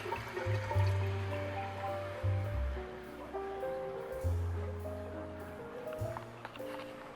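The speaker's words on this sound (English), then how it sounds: "So now the water is going back into the tank." Water from an AquaVac water-change siphon flowing back into an aquarium tank, a soft trickling and bubbling with low gurgles and a faint hum, close and quiet.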